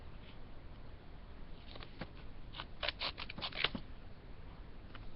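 Scissors cut through paper while a paper flip phone is crafted, giving a cluster of soft, quick snips near the middle of a faint, hissy background.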